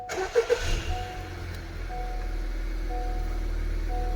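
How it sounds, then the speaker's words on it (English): A car engine cranks briefly and catches, then settles into a steady low idle hum, close and fairly loud, after the carburetor wire cap is refitted. "Start the car."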